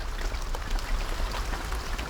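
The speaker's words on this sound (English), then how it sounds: "out of the horrifically noisy rain." Steady, dense video game rain hissing and pattering on surfaces, loud and close, with no voices.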